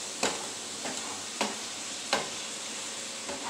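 Steak strips fry in a skillet with a constant hiss, broken by four or five sharp scraping stirs at uneven intervals. The sound is close and has no talk over it.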